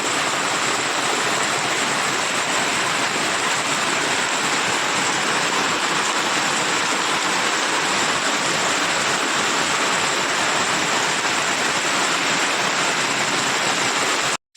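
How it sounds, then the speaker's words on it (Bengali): Heavy rain pours down in a dense, unbroken roar that stays loud and steady throughout, with no voices. "কি জোরে বৃষ্টি নেমেছে দেখো, সব ভাসিয়ে দিয়ে যাবে আজকে।"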